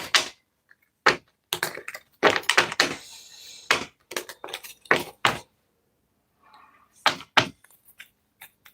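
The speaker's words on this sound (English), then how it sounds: "Let's give it a couple more shuffles." Tarot cards being shuffled by hand: sharp riffling bursts and slaps in quick clusters, with short pauses between runs, close and dry with no talking.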